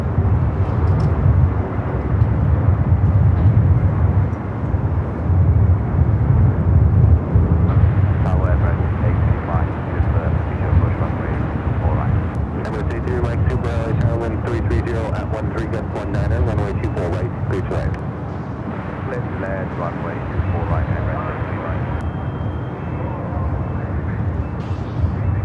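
Boeing 787 Dreamliner arriving from Tokyo Haneda at LAX airport, a steady broadband jet roar and rumble throughout, loud and sustained, with a commentator talking over it.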